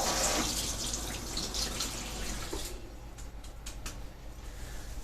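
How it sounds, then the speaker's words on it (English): A handmade wooden Scythian recurve bow limb cooled under a running tap, a steady close stream of water splashing into a sink that thins to a quieter trickle with a few drips. "I'm just going to pass it under the water."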